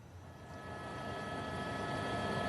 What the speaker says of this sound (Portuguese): temos aí informações da chegada do avião com o presidente Jair Bolsonaro à capital paulista